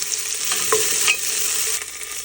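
Long-sliced onion frying in sesame oil in a pressure cooker with cloves and a bay leaf, a close, steady sizzle with a few soft stirring scrapes.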